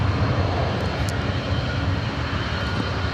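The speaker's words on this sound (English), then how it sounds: "So I believe the C5 heading our way, the Lockheed C5M Super Galaxy," A Lockheed C-5M Super Galaxy military transport, 38 years old, approaching, heard as a dense, steady rumbling engine roar, loud and sustained for a few seconds.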